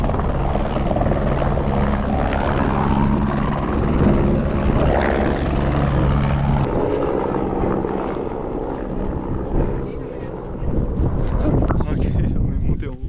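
A helicopter flies close by in Tenerife, its loud, steady rotor drone filling the whole stretch with wind buffeting the microphone.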